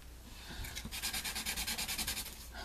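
A craft piece, a cut-out part of an altered house, is sanded by hand in quick, rhythmic back-and-forth strokes, a soft steady rasping close up and fairly faint.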